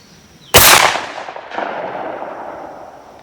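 A single sharp, loud 20 gauge shotgun blast fires a reloaded Lyman pellet slug at an outdoor range, followed by a decaying rumble and a faint second echo about a second later.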